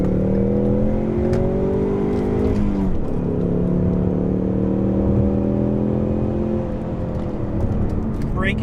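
A 2016 Ford Mustang EcoBoost engine accelerates through gears, pitch climbing, dropping at a shift, then climbing again, loud and close, with a voice speaking faintly underneath.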